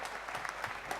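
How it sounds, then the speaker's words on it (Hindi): Brief burst of audience applause at a 75th birthday celebration, steady broadband clapping from a crowd at moderate distance with no voices on top. "इन्हीं के लिए जोरदार ताली"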